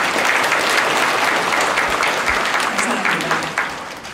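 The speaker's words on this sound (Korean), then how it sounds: "수고해 주신 여성회본부의 홍순옥 부회장님께 여러분 박수 한번 보내드릴까요?" An audience at an outdoor memorial ceremony for the Donghak Peasant Revolution applauds, dense clapping that holds steady and then thins out toward the end.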